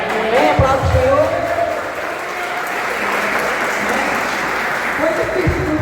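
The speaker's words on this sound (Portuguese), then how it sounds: "Aplausos do Senhor." Church congregation applauding at a Baptist youth gathering, a steady wash of clapping from a large crowd that fills the whole stretch, with a few voices calling out and cheering over it.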